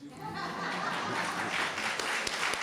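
Audience applause at a poverty forum held at Williams, a dense continuous wash of many hands clapping at a steady level for a few seconds, with some faint voices mixed in.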